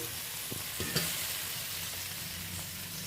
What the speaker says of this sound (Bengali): আমি ভালো করে আরও 2 মিনিট মশলাটা কষিয়ে নেব